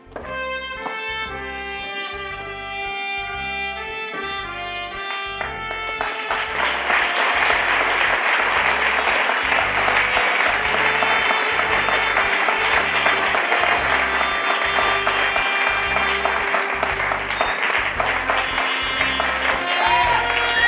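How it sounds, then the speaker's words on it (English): A theater audience applauds the actors, loud and sustained clapping from a large crowd that swells after a few seconds of rhythmic music and continues with the music underneath. "Please give a big round of applause to our actors"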